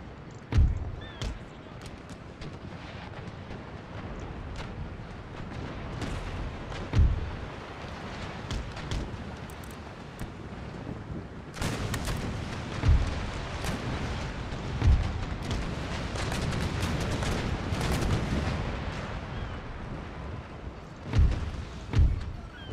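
Naval cannons firing in a video game battle against fifth-rate ships, heavy booms recurring irregularly over a continuous roar of battle, several loud thumps close together near the end.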